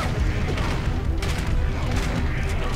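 A grenade blast in the shooter Turok 2: a dense, booming burst of explosive noise runs throughout, loud and close, with a second sharp swell partway through amid continuous game chaos.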